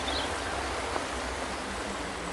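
Steady broadband rush of river water flowing in the Sounds of Eden game, a continuous close wash of stream noise with no talk.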